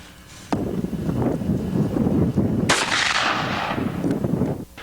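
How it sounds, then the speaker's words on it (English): Rifle fitted with a red dot sight fired outdoors at about 100 yards, with two sharp, loud shots, each followed by a long rumbling echo and wind noise. "you're going to do a little shooting with it?"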